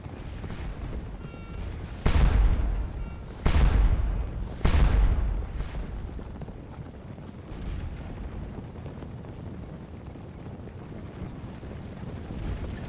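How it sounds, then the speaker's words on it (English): Artillery fires in a Napoleonic battle video game, three heavy cannon booms about a second and a half apart, each with a long rumbling decay, over a constant windy background roar with no voices. "Is this like a point blank artillery duel right here?"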